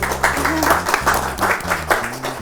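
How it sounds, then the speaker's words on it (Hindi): Studio audience clapping on a celebrity talk show, rhythmic bursts of hands clapping beneath ongoing voices and laughter, close and fairly loud. "नहीं तो तालियां तुम्हारे डैडी ने बजानी है, फिर मारो ताली।"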